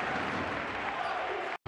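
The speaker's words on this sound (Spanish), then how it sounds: "Esta jugada merece un aplauso." Arena crowd applauding at a Real Madrid versus Unicaja basketball game, a dense steady wash of clapping and crowd noise filling the space, cut by a brief dropout near the end.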